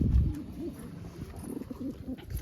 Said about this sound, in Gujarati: આટલા કબૂતર છે, હજી અંદર રહી છે એકાદું.